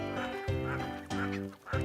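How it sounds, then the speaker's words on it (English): Loud, close honking calls from a duck on a farm, three harsh repeated calls in under two seconds with no talking. "Duck."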